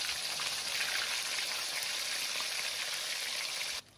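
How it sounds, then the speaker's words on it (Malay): Chicken fries in hot oil in a wok, a steady dense sizzle and crackle close by that holds evenly for several seconds before suddenly dropping away. "Dalam kuali panaskan minyak. Kita goreng ayam."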